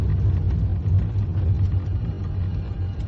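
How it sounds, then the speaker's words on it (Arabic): A four-wheel-drive vehicle's engine gives a loud, close, steady low rumble that holds throughout without pauses. No one speaks. "سمع من بعيد هدير السيارة الرباعية التي وصلت"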